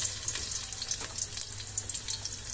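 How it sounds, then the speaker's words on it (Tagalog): Garlic sautés in a pan with a faint, steady high sizzle and crackle, quiet and continuous throughout with no voices. "Kaya siyempre, gigisa natin siya. Lagyan natin siya ng bawang."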